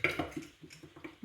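Small spoons clink against a bowl while baking parkin, a handful of light metallic taps and scrapes at an irregular pace, close and fairly quiet, with no talking.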